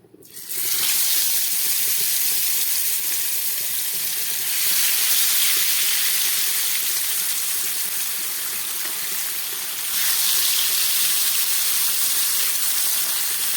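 Mustard oil in a large frying pan for pabda fish gives off a loud, steady, broad hiss that runs almost without a break and swells slightly in places.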